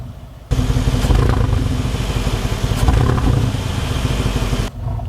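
A Mercedes G550 4x4 Squared SUV engine kicks in abruptly and revs with a throaty, rumbling growl, held for a few seconds before dropping off suddenly.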